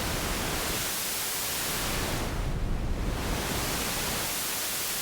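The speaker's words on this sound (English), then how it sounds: "I guess this is white noise." Generated white noise for glitch sound design, a steady full-band hiss that holds constant and alone for several seconds with a slight dip in the middle.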